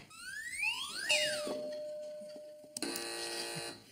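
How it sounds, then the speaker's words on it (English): Game show buzzers on a panel news quiz: a rising electronic sweep, then a steady tone, then a loud, bright buzz near the end, close and alone with no talk over it. "Fingers on buzzers, teams."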